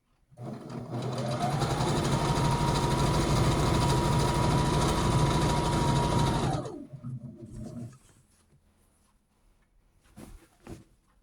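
A sewing machine stitches Jeep-themed quilt panels in one loud, steady, whirring run of about six seconds, then slows and stops, followed by faint handling noises.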